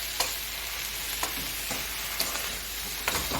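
Okra frying in a pan with salt, turmeric and black pepper, giving a steady close sizzle broken every second or so by the scrape of a stirring spoon, with no voices.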